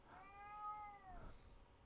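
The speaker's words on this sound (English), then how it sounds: "That cat." One clear, tonal meow from a domestic cat, rising then falling over about a second, fairly quiet against a hushed indoor background with no talking.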